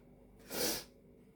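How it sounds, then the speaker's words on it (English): One short, sharp nasal sniff from a person with a cold, close and fairly loud, rises out of quiet room tone and fades within about half a second. "I'm sorry if I'm sniffing a lot, I've got a bit of a cold."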